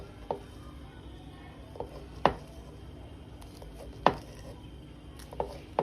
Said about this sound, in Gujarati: આવી રીતના બધા રોલ આપણે કટ કરી દઈશું.